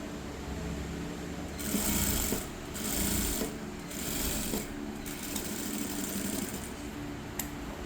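A sewing machine stitches the lining of a blouse in steady bursts of running motor and needle noise, close and moderately loud, with short pauses between runs.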